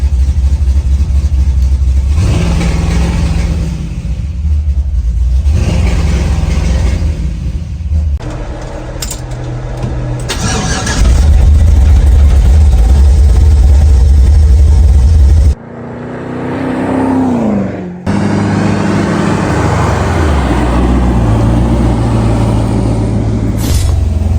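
An LS-swapped Chevy S10 truck running a Holley Terminator X two-step launch control, idling roughly, then revving hard in repeated bursts and dropping off, loud and close with no talking.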